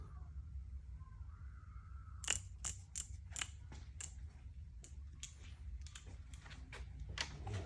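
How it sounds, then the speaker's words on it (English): A torque wrench tightens a bolt on a DirtyBike chain kit installed on a Light Bee electric dirt bike to 17 foot-pounds, giving a run of close, crisp mechanical clicks and ticks in a quiet workshop with no talk. "torque wrench on there, and hold the other side with an Allen key. Tighten it."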